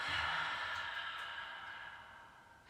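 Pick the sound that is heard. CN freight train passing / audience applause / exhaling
exhaling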